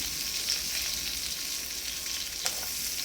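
Onions sizzling in a pan as they fry for pasta, a steady, close hiss with a faint stirring tap near the end and no voices.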